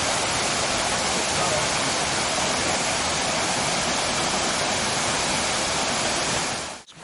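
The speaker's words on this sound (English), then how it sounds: "la cascada de Sal de Fruta" Sal de Fruta waterfall in Tutunendo, Chocó, Colombia, a steady, loud roar of falling water with a broad, unbroken rush heard alone, cutting off abruptly at the very end.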